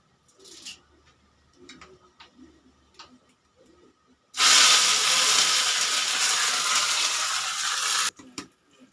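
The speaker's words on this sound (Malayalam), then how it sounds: "കൂട്ടാൻ കണ്ട് വറുത്തു ഇനി ചട്നിയോട് വറുക്കാൻ പോവാട്ടോ" Seasoning hits hot oil for a chutney tempering, setting off a sudden loud, hissing sizzle that runs steadily for about four seconds and then cuts off. Quiet kitchen clicks and handling noises come before and after it.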